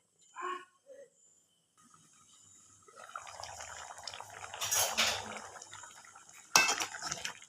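A lid goes onto a pot of breakfast curry, with metal clattering and scraping against cookware that builds over several seconds and ends in one sharp clank, close and moderately loud.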